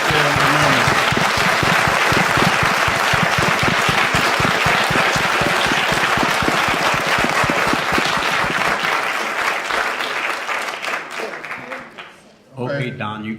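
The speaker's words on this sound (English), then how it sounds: "please give our panel members a hand" An audience at a discussion event applauds the panel members, a full, sustained round of clapping with rhythmic claps that gradually thins and fades, followed by a voice speaking at the end.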